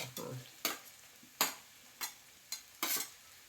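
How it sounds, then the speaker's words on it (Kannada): Onions frying and being stirred in a pan for mutton pepper dry, with five or six sharp scraping stir strokes spaced about every half second over a soft steady sizzle, close and with no talking. "ನೀರುಳ್ಳಿ ಹಾಕಿ ಚೆಂದ ಮಾಡಿ ಕೆಂಪಾಗುವ ತನಕ ಫ್ರೈ ಮಾಡಬೇಕು"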